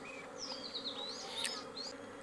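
A swarm of honey bees buzzes steadily and close, its wavering drone rising and falling without pause and with no voices over it.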